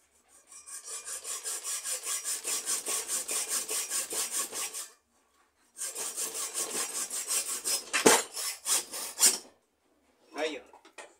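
A small hand saw cuts a rod, rasping back and forth in quick, even strokes, stops briefly, then resumes with a few choppier, uneven strokes up close.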